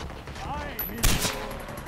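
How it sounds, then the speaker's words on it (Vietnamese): A single sharp sniper rifle shot cracks out in Far Cry 4, a sudden loud burst with a short decaying tail, following a brief stretch of quiet talk. "Mình nghĩ là mình nên sử dụng súng ngắm này."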